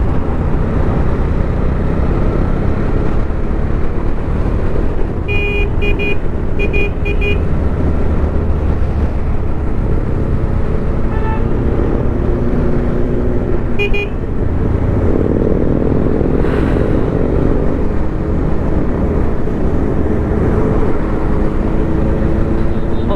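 Harley-Davidson motorcycles rumble in a group while passing during a Sunday ride, a steady loud engine drone heard from a moving bike with wind noise and a few brief higher tones.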